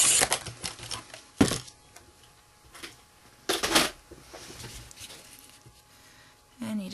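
A paper cutter slices card stock for a pop-up butterfly craft, giving several short, crisp rasping strokes spaced apart, fairly close and moderately quiet, with brief pauses in between.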